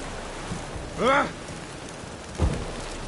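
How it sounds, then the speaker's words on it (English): Rain in The Witcher 3: Wild Hunt: a steady soft hiss of rainfall runs throughout, broken by a brief voiced sound and a low thud nearby. "Lots of rain."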